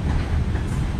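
A train passing through Tuapse on the Black Sea coast, its wagons rolling by close in a steady, loud rumble with a continuous clatter and no voices over it.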